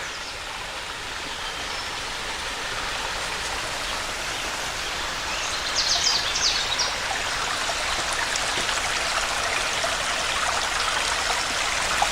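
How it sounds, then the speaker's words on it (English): A mountain stream tumbling over small cascades in Shenandoah National Park, a steady broad rushing wash of water that swells slightly midway, continuous with no voices. "It's a beautiful stream. Like some mini cascades up there."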